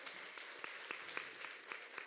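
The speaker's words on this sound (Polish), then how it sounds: "Wielkie gratulacje, wielkie brawa." Applause at a children's song festival gala in Łasin, Poland: a crowd clapping steadily with a fairly distant, soft, continuous patter of many hands and no voices.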